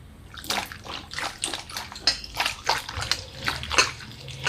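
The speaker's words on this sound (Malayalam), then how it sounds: "അപ്പോൾ ചക്ക നമുക്ക് നല്ലോണം കഴുകി എടുക്കട്ടെ" Jackfruit being washed by hand in a basin of water, rhythmic sloshing and splashing strokes repeating about once every half second, close and moderately loud, no talk.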